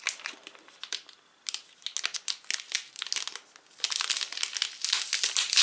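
Crinkly Hochland cheese packaging is torn and opened up close, giving dense, irregular plastic crackling and rustling that grows busier toward the end, with no talk over it.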